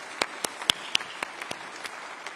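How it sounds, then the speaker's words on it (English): Sparse applause for a campaign team at a Conservative Party conference event, a handful of distinct claps spaced out and thinning quickly, moderately loud in a large hall. "can I just take the liberty of asking everyone to give them a big round of applause"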